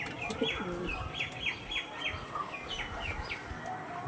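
Pigeons kept for sale coo in repeated soft, rolling calls close by, mixed with chirps and an occasional flutter of wings, without any talking.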